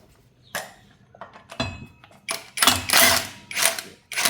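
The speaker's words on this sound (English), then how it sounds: "we've got also 3 bolts here on the rear that we need to remove" Bolts being removed from the rear of a Volkswagen R36 engine during engine-removal preparation: a run of metallic ratcheting clicks and tool clatter, several bursts close by, alone without talk.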